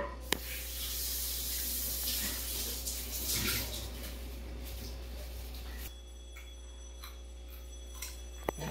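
Running tap water splashes steadily over freshly cut cucumber being washed, a close continuous hiss with faint clicks, then the flow drops to a quieter trickle near the end.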